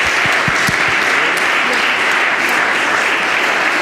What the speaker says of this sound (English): So a big applause for all the young investigators